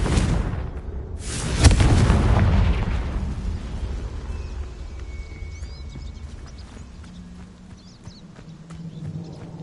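A Confringo spell explosion from the Hogwarts Legacy video game: a sharp, loud blast that fades into a long rumbling decay, followed by a quieter ambient bed with faint clatter and no talking.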